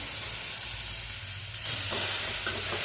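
Drumstick leaves (murungai keerai) frying and being stirred in a pan for a thuvaiyal, with a steady close sizzle and occasional scraping stirs, no talk.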